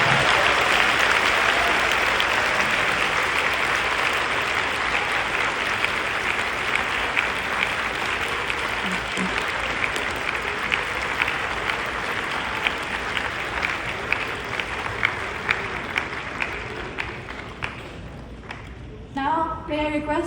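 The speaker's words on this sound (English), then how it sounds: "Glance at your seatmates and friends and offer a joyful applause and affirmation of a job well done." Sustained applause from graduates at a university graduation ceremony, a dense steady wash of many hands clapping that fades out near the end, with some speech underneath.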